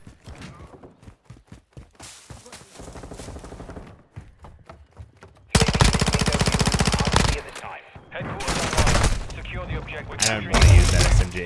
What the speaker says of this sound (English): let's try this SMG